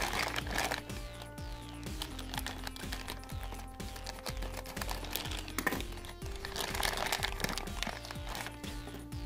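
A plastic McDonald's toy sachet holding a Pokémon card crinkles and rustles as it is torn open by hand, with steady background tones running underneath throughout.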